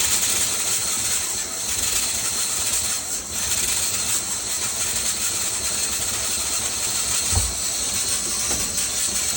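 A camper's water line drains and pushes out air, giving a steady, close, broadband rushing hiss that runs unbroken throughout with a faint low thump near the end.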